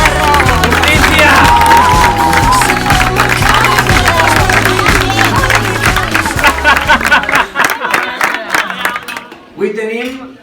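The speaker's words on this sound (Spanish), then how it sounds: "¡Aplauso, perro!" A crowd at a 2019 summer camp in Alustante claps and cheers loudly with dense, sustained clapping, then fades into scattered claps with voices shouting over it.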